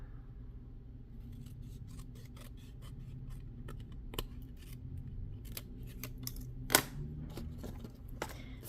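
Scissors cut paper for a handmade box: a series of crisp, close snips at uneven intervals with soft rustling between them. No talking is heard.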